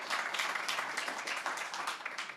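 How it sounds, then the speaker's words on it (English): Applause at a talk or interview event about Ukraine's defense industry, a steady patter of many hands clapping fairly close for a few seconds with no voices. "Yeah, that deserves applause."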